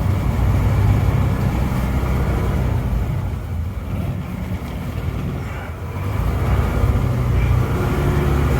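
A 1972 Ford COE C600 truck with a 361 engine rolls along a driveway, its engine a steady loud low rumble throughout with a slight dip and rise in the middle, no talk.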